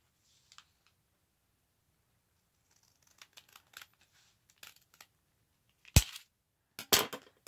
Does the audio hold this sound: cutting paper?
yes